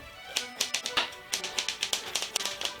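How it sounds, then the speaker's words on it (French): Scissors snip through baked aubergines in a quick run of sharp, crisp little cuts, clustered in bursts, close and fairly quiet, with no talking. "On coupe en profondeur."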